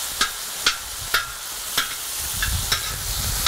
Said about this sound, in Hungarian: A hús minden oldalát szépen körbepirítom.